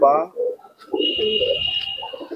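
A pigeon coos in short, soft, close bursts, with a steady high whistling tone running through the middle.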